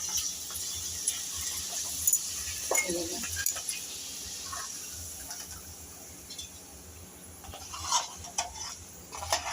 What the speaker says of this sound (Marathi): आपण आता पापड तळून बघूया